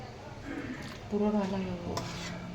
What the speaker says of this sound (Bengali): এবার এখানে আমরা ঢেলে দাও, কড়া দিয়ে ঢেলে দাও পুরোপুরি।